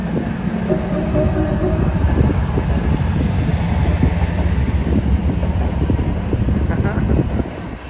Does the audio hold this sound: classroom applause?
no